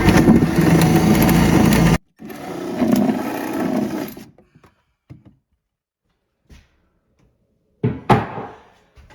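Power drill boring a hole through a kitchen cabinet with a 1.25 inch wood bit, a close steady whirring grind for about two seconds, then a second shorter run, followed by scattered clunks and handling noises.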